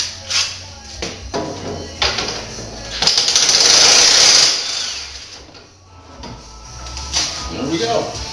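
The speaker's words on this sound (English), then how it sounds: "Mini impact driver works really handy for this kind of stuff." A mini impact driver removes bolts from EZGO golf cart rear seat components, letting out one sustained, loud rattling burst in the middle with quieter handling noises and talking before and after.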